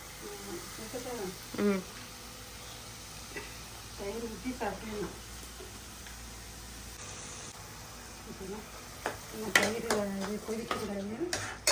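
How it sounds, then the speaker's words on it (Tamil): Curd is stirred into a cucumber curry in a pot, with faint scraping and clinking of a utensil against the pot and a low background hiss, while someone talks intermittently over it. "தயிரை ஊற்றி கிண்டி அப்படியே ஆஃப் பண்ணிடணும்"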